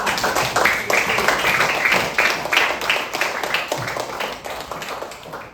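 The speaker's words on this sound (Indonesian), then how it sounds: "tepuk tangan buat kelompok 4" Students in a classroom clap for a presenting group, a mix of individual hand claps with an uneven, choppy rhythm and a close, moderately loud sound that gradually thins out toward the end.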